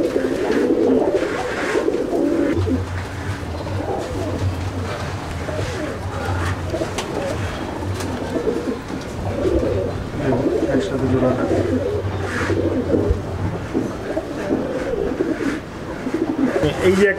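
Chennai breed pigeons cooing steadily inside a loft, several birds overlapping in low, continuous rolling coos with someone talking over them.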